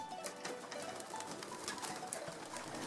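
Racing homing pigeons kept in a loft coo softly in a close, busy chorus, with light pattering and scattered wing movement throughout.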